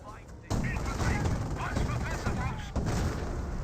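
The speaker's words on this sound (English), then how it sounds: "Oh, I hear a howitzer barrage" A howitzer artillery barrage in the Company of Heroes game sounds as a dense run of loud booming impacts and crackling gunfire, close and continuous, with a voice talking over it.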